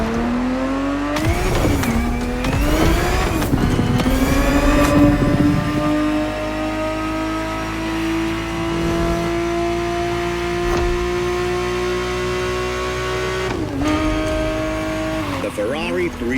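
A Ferrari 365 GTB4 in The Crew Motorfest revs hard through its gears, rising and dropping in pitch with brief tire squeals, then holds a steady high drone before another rev near the end, with narration over the engine.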